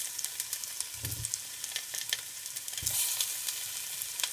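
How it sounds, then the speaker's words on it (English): Potato fries in a stainless steel pan with a steady, close sizzle and a couple of soft stirring or shifting sounds. No one speaks. "Once you leave the potato in there, don't move until it's brown."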